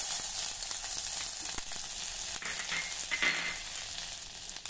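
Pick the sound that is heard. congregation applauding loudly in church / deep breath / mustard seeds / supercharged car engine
mustard seeds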